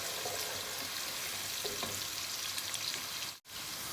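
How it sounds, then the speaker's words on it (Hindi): Onions sauté in a pan with a dense, even hiss of frying, faint stir sounds, and one brief dropout near the end. "प्याज ऑलमोस्ट थोड़ा सा सौते हो गया।"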